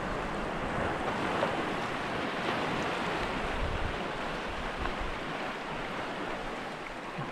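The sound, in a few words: big ocean waves around a fishing boat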